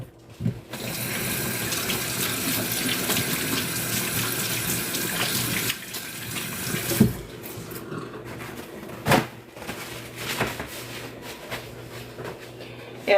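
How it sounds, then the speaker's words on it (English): Tap water runs steadily into a sink for hand washing, a loud, close rush that stops partway through, followed by scattered small clicks and handling noises. "Let me wash my hands."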